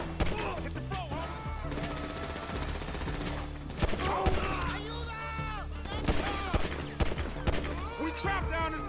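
Gunfire in the video game GTA 5 comes in rapid bursts and sharp single shots, loud and dense throughout, with game characters' voices talking and shouting over the shooting.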